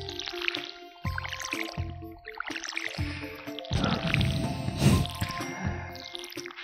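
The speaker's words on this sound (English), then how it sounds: "What a great day it is to water all the plants." Watering can pouring over crops in Stardew Valley, a run of short drippy, squishy splashes in bursts, fairly close and steady, with light game effects and no talking.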